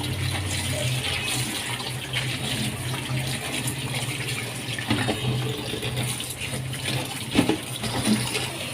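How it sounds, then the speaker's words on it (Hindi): Fenugreek leaves being washed in water, a steady running, splashing wash like a tap filling a basin, continuous throughout with a few louder sloshes near the end, no voices. "आपने इस तरीके से इसे अच्छे से धो लेना है।"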